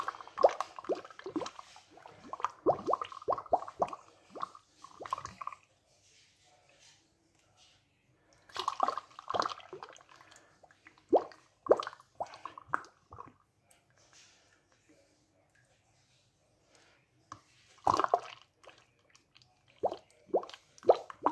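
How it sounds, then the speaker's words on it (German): Homemade Boskop apple juice, heated, is bottled into freshly disinfected bottles: bursts of plopping, glugging liquid sounds come in clusters with quiet gaps between them, close and fairly clear, with no talking. "Heute der erste halbe Liter meines ersten selbstgemachten Apfelsafts ist abgefüllt."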